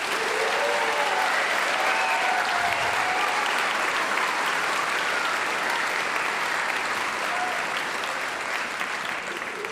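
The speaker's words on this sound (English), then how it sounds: "Could we give a huge round of applause for the auditorium staff?" A large auditorium audience at a band event applauds continuously, a dense, even roar of clapping that stays loud throughout with no pauses.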